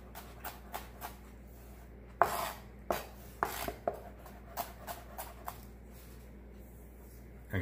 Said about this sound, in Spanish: Ya que tenemos el pepino, lo vamos a cortar más o menos a este grosor